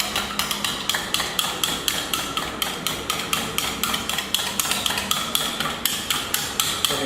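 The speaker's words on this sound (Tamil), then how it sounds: "எக்கை வந்து நல்லா பீட் பண்ணிக்கிறேன்" Eggs seasoned with rosemary, salt and pepper being beaten briskly for an omelette, a fast, even run of sharp clicks from the utensil against the bowl, close up and alone.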